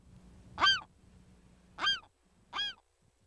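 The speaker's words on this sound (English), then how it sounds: "The alarm calls of this western gull are telling the photographer that she is way too close" Three harsh, nasal western gull alarm calls ring out close by, spaced unevenly over a low background hum.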